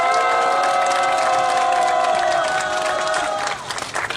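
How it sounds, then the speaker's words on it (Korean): A crowd at an outdoor labor-dispute press conference bursts into loud, sustained applause and cheering, dense and continuous throughout before thinning slightly at the very end. "기자회견을 힘찬 박수로 시작하겠습니다."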